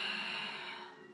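A single long breathy exhale during a Pilates exercise, close and soft, trailing off over about a second.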